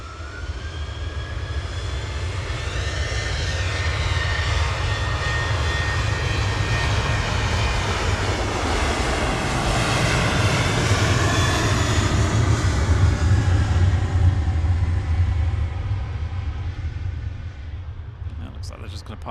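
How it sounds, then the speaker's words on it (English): easyJet Airbus A320neo taxiing at Manchester Airport after arriving from Jersey: a steady jet engine whine with a low rumble beneath, swelling slightly as it passes, then fading, with people talking over it. "EasyJet 730 from Jersey's just arrived"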